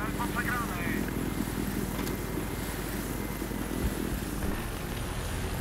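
Helicopter in the Battlefield 3 video game, a steady loud rotor and engine drone running throughout under game noise and voices.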